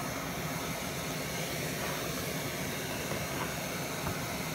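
An MSR Pocket Rocket camping stove hisses in a steady, broadband roar as its flame heats a pot of water toward a boil, constant and unbroken throughout.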